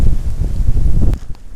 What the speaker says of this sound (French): Bon, ça souffle, hein. Il y a du vent.